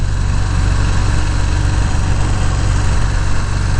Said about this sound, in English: we're riding a Harley, yay!